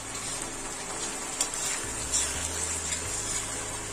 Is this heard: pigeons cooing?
no